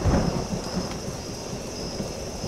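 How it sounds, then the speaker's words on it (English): Thunder rolls from a stormy scene in the game Welcome to Hanwell, a loud rumble at the start fading into steady heavy rain that continues throughout. "That's some lightning, man."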